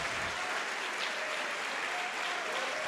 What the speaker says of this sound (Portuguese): Então vamos aplaudir ao Senhor Jesus